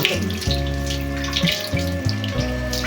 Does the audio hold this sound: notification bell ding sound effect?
no